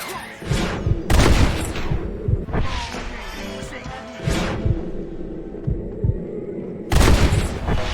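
A gunfight in Red Dead Redemption, with heavy booming gunshots in irregular clusters and separate bursts spaced a few seconds apart, loud and close against a rumbling background.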